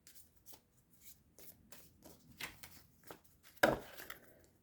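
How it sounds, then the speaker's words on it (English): A deck of playing cards gets a poker-style riffle shuffle, with several quick papery riffles and taps up close, ending in a sharper final riffle and bridge. "One more poker shuffle, I guess is what it's called."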